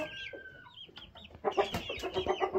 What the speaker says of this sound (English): Quick look at the chicks here.